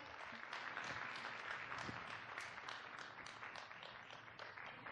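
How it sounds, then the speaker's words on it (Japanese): Applause from a concert audience at a city arts festival after a trio performance, a full, even burst of many people clapping that carries on steadily without a break, heard alone with no talk over it. "今一度大きな拍手をお願いいたします。"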